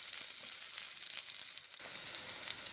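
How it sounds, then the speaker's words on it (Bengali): Ground spices fry in oil in a pan with vetki fish cooking, a steady, quiet hiss of sizzling with faint scraping as they are stirred. "নেড়ে চেড়ে ভেজে নিচ্ছি মশলা।"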